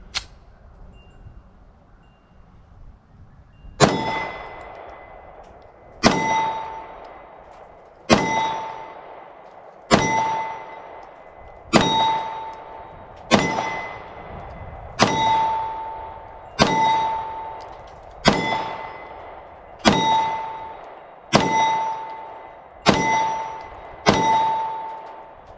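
Steel range targets ring with a bright metallic clang as 9mm rounds from a Taurus G3 pistol strike them, about a dozen evenly spaced hits, each clang decaying over a second or two.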